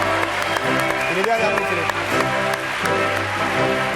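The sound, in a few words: audience applause greeting a guest on a TV show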